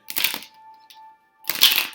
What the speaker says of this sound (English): Let me shuffle a few more times.